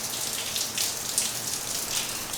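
Rain falling outside during a flash flood warning, a steady dense hiss of drops patting on surfaces, moderately loud and even throughout, with no voices.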